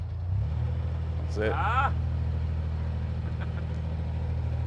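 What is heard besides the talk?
narrowboat engine accelerating with more throttle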